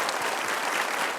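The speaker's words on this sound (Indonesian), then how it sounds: "Aplaus untuk kita" Audience applause at a motivational stage event, a dense steady wash of clapping hands filling the whole short moment at moderate loudness.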